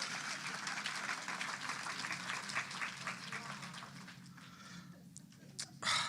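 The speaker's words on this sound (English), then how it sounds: "Y'all give a round of applause for this." An audience applauds with sustained clapping that gradually thins out, with a voice cutting in briefly near the end.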